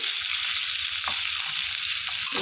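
Chopped onions frying in a pan with urad dal for a spinach onion curry, a steady broadband sizzle with a few faint stirring knocks, no talk.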